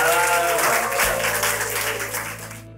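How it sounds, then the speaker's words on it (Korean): A crowd at a youth history expedition opening ceremony in Korea bursts into loud applause and cheering that carries steadily, then cuts off abruptly. "박수와 함성으로 시작하도록 하겠습니다"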